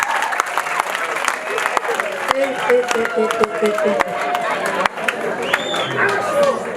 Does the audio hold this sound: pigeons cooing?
no